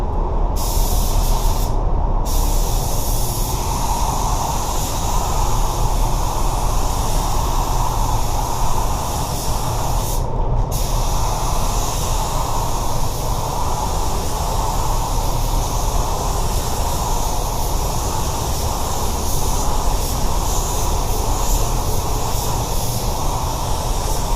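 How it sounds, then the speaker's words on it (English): Steady, loud hiss of a Sata 5000 spray gun applying car base coat paint, running continuously with a few brief pauses near the start and midway; no talking. "I'll be spraying the wet bed with my Seda 5000."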